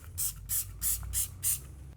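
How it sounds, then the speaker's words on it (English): Five short bursts of spray hiss from a trigger bottle of tile cleaner sprayed onto a kitchen splashback, evenly spaced and close, over a low background hum. "We spray it on."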